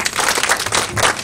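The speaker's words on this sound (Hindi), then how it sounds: "तो मैम के लिए जोरदार तालियां।" Brief loud applause from an audience at a livelihood and enterprise development training program event, close, dense clapping lasting about a second.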